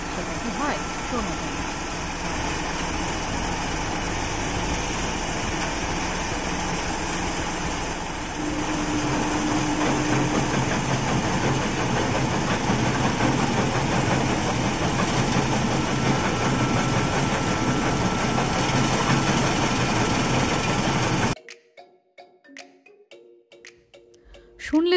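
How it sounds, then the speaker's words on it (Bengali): A large machine at a stone business in Sylhet runs with a loud, continuous heavy engine drone and rattling, steady for about twenty seconds before cutting away to near silence. A voice talks faintly underneath. "শুনলে তো মেশিনের ভয়ঙ্কর শব্দ।"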